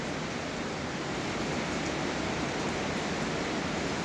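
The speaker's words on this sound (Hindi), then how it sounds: "यहाँ पर बहुत तेज बारिश हो रही है" Heavy rain pours at Gaurikund on the Kedarnath route, a loud, unbroken wash of noise that stays constant from start to finish.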